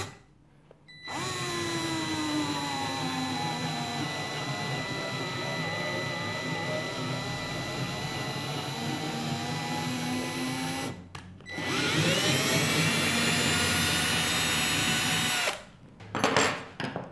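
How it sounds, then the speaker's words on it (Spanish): Power drill running steadily while tapping a 1/4 threaded hole in wood, a loud continuous whine that slows and shifts pitch, stops briefly around eleven seconds, then resumes before cutting off. "Y ahora vamos con el agujero con un machuelo."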